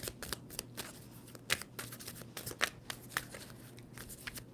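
A tarot deck is shuffled up close in a rapid flurry of papery riffles and flicks, steady at low volume with no talk over it.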